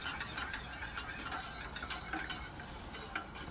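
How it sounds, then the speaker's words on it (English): A milk and flour mixture is whisked in a pot, giving a quiet, steady scrape and swish of the whisk against the metal that continues with no talking. "And then I would continue whisking it, or at least stirring occasionally as it's coming to a boil"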